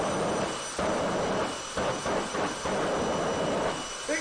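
Jet engine of a jet-powered car roaring steadily at close range, a continuous broadband rush with brief dips and surges as it is driven.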